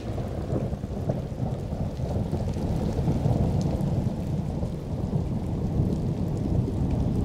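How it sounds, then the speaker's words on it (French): Heavy rain pours down over the Gulf of Lion coast after four months of drought, with deep rolling thunder rumbling beneath a dense, steady hiss of falling water. "la pluie s'abat sur l'ensemble du littoral du golfe du Lion"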